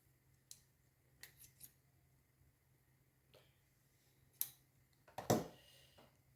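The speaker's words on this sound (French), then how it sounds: "Alors, je vais couper ça en fines lanières." Something is cut into thin strips, heard as a few sparse, quiet, close snips and clicks scattered across an otherwise hushed room.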